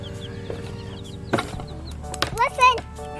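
Backyard chickens clucking near a garden, short close clucks and squawks at intervals, with people talking over them.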